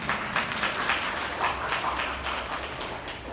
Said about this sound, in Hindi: ठोको ताली, एक बार ताली।